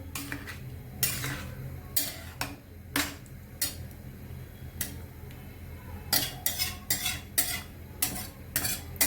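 A spoon scrapes and clatters rhythmically against a pan while vegetable kolhapuri curry with paneer is stirred, irregular metallic knocks over a faint simmering bubble, close by and fairly quiet.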